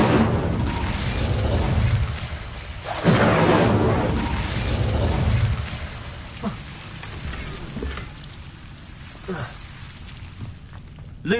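In the Hogwarts Legacy video game, an Incendio fire spell bursts out as a loud whooshing, roaring blast, followed by crackling rumble and scattered smaller impacts that gradually die down.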